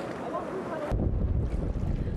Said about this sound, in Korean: 순식간에 파도는 작은 배를 덮쳤는데요